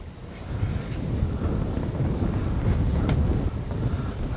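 A Freewing MiG-29 80mm RC jet making a gear pass under dark skies, a steady roaring rush with a high whine that holds, then rises and falls as it passes, mixed with wind noise and no talking.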